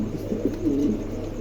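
A pair of pigeons offered for sale gives one soft, low coo up close, rising and falling briefly over a steady background hum.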